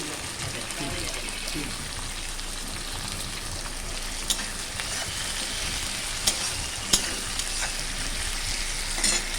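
Steady crackling sizzle of onions and tomatoes frying with salt in a pan, with a few sharp clinks of a utensil against the pan.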